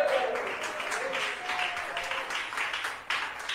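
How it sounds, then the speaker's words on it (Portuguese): Church congregation clapping during a sermon, a moderate wash of applause with uneven claps that rise and fall for a few seconds, slightly distant, with a voice faintly under it at the start. "Palmas para Cristo Jesús."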